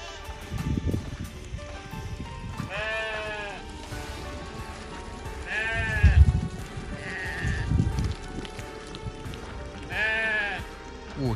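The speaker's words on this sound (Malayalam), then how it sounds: "ആടുകൾ കൂട്ടത്തോടെ ഓടുന്നു." A herd of Arabian goats bleats repeatedly while running in a desert pen, several loud wavering calls at irregular intervals over scuffling hooves and low rumbling movement.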